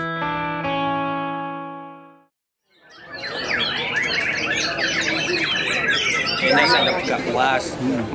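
White-rumped shama songbirds sing at a bird-singing contest, a dense, loud tangle of rapid whistles and chirps from several birds. A short sustained tone and a brief silence come first.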